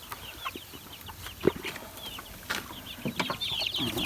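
Young chickens and ducklings peep and cluck nearby in a cramped cage: a busy scatter of short high chirps and soft clucks, with light shuffling and knocks in the background.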